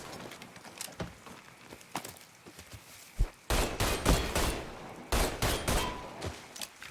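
Bursts of gunfire from a Mafia III shootout, scattered single shots giving way to loud, sustained volleys and rapid automatic fire crackling in close, dense clusters.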